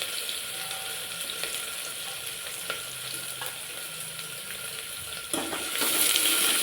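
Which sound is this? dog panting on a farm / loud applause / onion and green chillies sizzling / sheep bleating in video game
onion and green chillies sizzling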